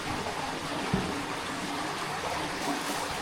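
Water runs and trickles steadily through a flooded cave, a constant close rushing wash with a brief knock or splash near the start and no talking.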